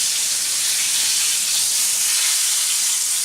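Chicken frying in hot oil, a steady broadband sizzle and hiss holding constant and fairly loud throughout, with no voices.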